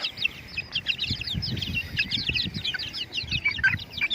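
Native free-range chickens gathering at feeding time, a flock of busy clucks and high chirps overlapping in a constant chatter close by, with faint low shuffling underneath.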